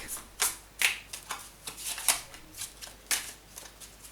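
A Vera Sibilla tarot deck being shuffled, a run of crisp papery riffles and snaps in an irregular rhythm, close and clear with no talking.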